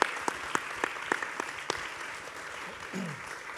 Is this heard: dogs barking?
no